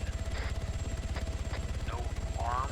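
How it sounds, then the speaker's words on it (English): A black helicopter in a video game beats out a steady, close rotor chop, with brief faint game sounds over it. "It's one of the black helicopters."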